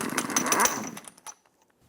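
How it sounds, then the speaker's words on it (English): An impact tool with a 36mm socket spins the axle nut off the front hub of an Infiniti G35, a loud close burst of rapid hammering that cuts off after about a second. "Using a 36mm socket, remove the axle nut."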